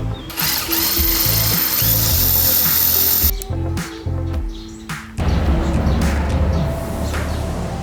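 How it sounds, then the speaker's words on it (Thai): Drill boring through glass with a 4 mm bit while a compact glass table is made, a loud close whine with shifting pitch that stops briefly and resumes grinding. "ใช้ สว่านกิงเจาะกระจกเบอร์สี่นะสี่มิล"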